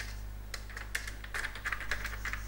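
Python code typed on a computer keyboard: quick, irregular clicks of keystrokes, faint and close, with no talking.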